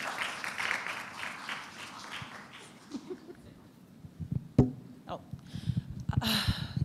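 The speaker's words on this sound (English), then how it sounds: "Round of applause to all of you." A crowd applauds in a dense burst that fades after a few seconds, followed by quieter shuffling and scattered murmurs.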